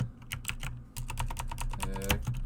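Computer keyboard typing, a steady patter of close, quick key clicks running continuously with small pauses and no voices.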